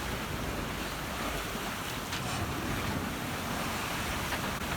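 Steady ocean waves wash continuously around a sailing boat far out on the open Pacific, with broadband surf and wind noise buffeting the microphone throughout and no talking.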